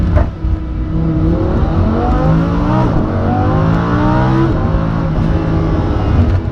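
A sports car driven hard in Corsa mode with traction aids off, its engine note loud and continuous, rising and falling through gear changes with no talk over it.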